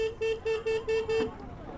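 A motorbike horn sounds six short, evenly spaced toots in quick succession, close and fairly loud, then falls quiet over faint background noise.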